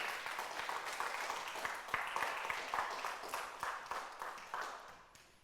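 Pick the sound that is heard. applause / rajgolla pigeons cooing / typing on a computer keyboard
applause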